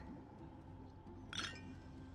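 Glasses clinking together in a toast inside the video game Honkai Star Rail, a single bright clink partway through, fairly quiet over a low steady background hum.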